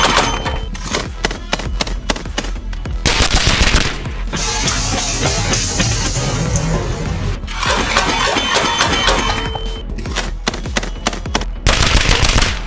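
A Soviet DShK 12.7 mm heavy machine gun fires on full auto at empty steel drums in a grassy field, loud rapid bursts of cracking shots separated by short pauses, with metallic impacts and clinks.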